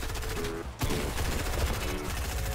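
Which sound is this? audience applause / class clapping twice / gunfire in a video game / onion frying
gunfire in a video game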